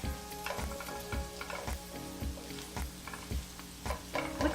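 Potatoes seasoned with pepper and salt sizzle in a pan while being stirred, soft steady frying hiss punctuated by regular scraping, clinking strokes of a utensil roughly every half second.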